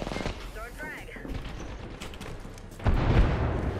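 Gunfire in a battle royale video game, bursts of shots and an impact boom under game sounds, with players talking over the action.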